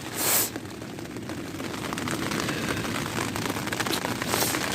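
Heavy storm rain pours down on a tent camp in Anamur, Turkey, in a steady, loud roar, with a brief whooshing wind gust near the start and no voices.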